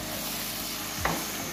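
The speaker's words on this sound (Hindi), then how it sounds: "जिस मसाले में मैंने फ्राई किए थे उसी में मैं ये ग्राइंड किया हुआ प्याज और टमाटर डालने लगी हूँ" Ground onion and tomato being tipped into a pan of frying masala for nargisi kofta, a steady close hiss of oil with a brief splash and burst of sizzle as the paste lands.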